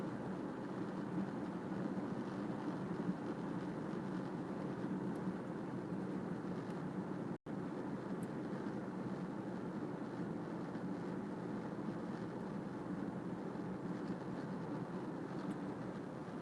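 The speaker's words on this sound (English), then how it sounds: "Nice sized train right there." Large freight train rolling past in Texas, a steady broadband rumble that holds evenly throughout at moderate distance, with no voices over it.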